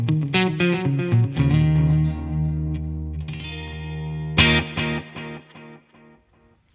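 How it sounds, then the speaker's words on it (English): Electric guitar run through a Keeley Electronics Halo Andy Timmons Dual Echo delay pedal, plucked notes and chords ringing out with clear repeating echoes trailing behind, loud and close, fading to quiet decay at the end. "that's a straightforward kind of delay tone"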